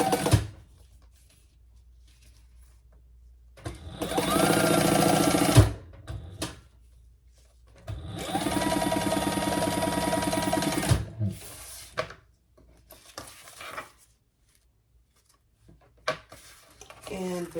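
Sewing machine stitching a pocket onto a crossbody bag, two loud steady runs of rapid needle clatter of about two and three seconds, separated by quiet pauses and short handling noises.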